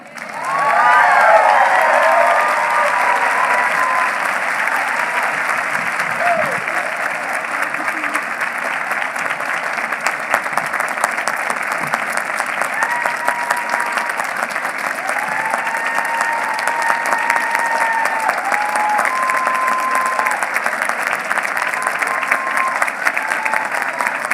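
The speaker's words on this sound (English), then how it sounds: "Okay, now you can clap again." Sustained audience applause at a Vermont Law School commencement ceremony in 2018, a dense, steady wash of clapping from a large crowd that continues without pause, with faint voices mixed in underneath.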